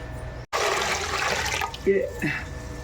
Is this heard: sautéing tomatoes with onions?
no